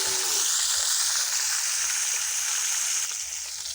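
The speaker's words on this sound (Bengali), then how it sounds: "মাছগুলো ঘুরিয়ে ভেজে নিতে হবে" Fish frying in mustard oil gives a steady, loud, close sizzle with a continuous bright hiss that eases slightly toward the end.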